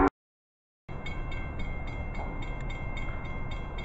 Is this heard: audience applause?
no